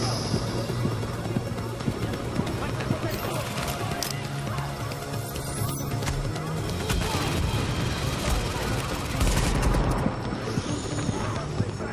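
A deployed turret fires in The Division amid a dense, loud firefight, giving continuous gunfire and impacts that swell near the end, with someone talking over the shooting.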